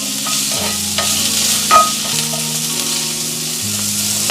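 Asparagus spears sizzling in a hot pan on a stovetop while being stirred, a steady, close frying hiss broken by occasional scraping and clinks of the utensil, with a low musical backing underneath.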